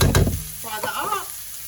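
Sirloin steak pieces frying in a pan for a Jamaican peppered steak, a short burst of close sizzling and stirring scrapes followed by a softer hiss.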